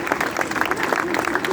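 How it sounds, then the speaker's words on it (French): Brief burst of audience applause at a Montpellier municipal gathering for former mayor Hélène Mandroux, steady clapping of a crowd with some voices mixed in. "Merci d'applaudir Hélène Mandroux."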